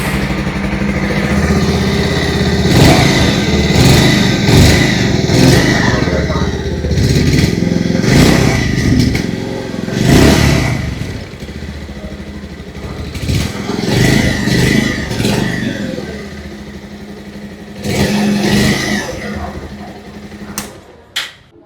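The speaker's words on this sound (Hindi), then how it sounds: "आइए अब सुन लेते हैं इस बाइक की एग्जॉस्ट नोट।" A 2026 Bajaj Pulsar 150 standard base-variant motorcycle revving its exhaust, with repeated throttle blips rising and falling over a steady idle, close and loud, with occasional speech-like noise mixed in.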